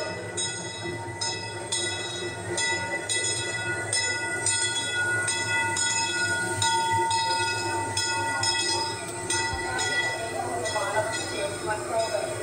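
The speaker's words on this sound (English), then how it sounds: "please remain seated until the train comes to a complete stop" A Disneyland park train rumbles steadily along the rails, wheels clacking in a regular rhythm with occasional squeals, while a voice makes announcements over the noise.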